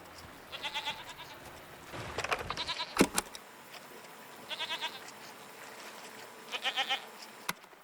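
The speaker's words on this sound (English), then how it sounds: "What are these strange goat-like creatures? Are they simply goats?" Goat-like creatures bleat in the video game Season: A Letter to the Future, giving three separate bursts of rapid, wavering calls at moderate distance, with a sharp clatter between them and no talk.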